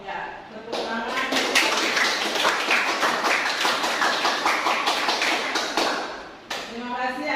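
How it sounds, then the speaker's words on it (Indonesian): Vocational high school students clapping hands together in a classroom at a teacher's prompt, a dense, loud patter of many hands sustained for several seconds, with voices mixed in near the start and end. "Ya, tepuk tangan."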